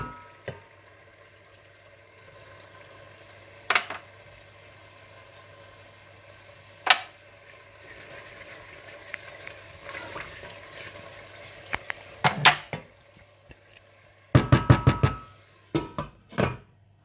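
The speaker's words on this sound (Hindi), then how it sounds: "जब मसाला अच्छा सा भुन जाए तो आप इसमें हरी मिर्चें और गरम मसाला डालकर अच्छी तरह से मिला लें" Frying masala for chicken tikka biryani is stirred after green chillies and garam masala go in, a low steady sizzle under sparse spoon knocks against the pan, ending in a quick flurry of close scraping clatter.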